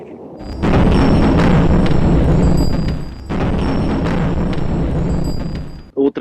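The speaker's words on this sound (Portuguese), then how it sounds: "Outra explosão agora com rajada de tiros também." Loud, close blast from a wartime scene in Ukraine, heard from stuck traffic, followed by a sustained roar with crackling bursts of gunfire, a brief break mid-way, then fading out.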